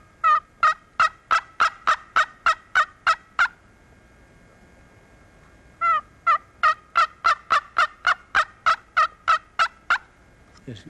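A wild turkey gobbles over and over on a still morning, two long runs of sharp, evenly spaced calls separated by a short quiet gap, clear and fairly close with no talk.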